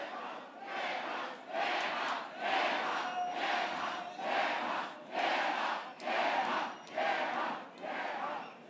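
A crowd at a rap battle shouts and cheers in rhythmic waves, roughly eight swelling chants at a steady pulse, heard from within the audience at moderate volume.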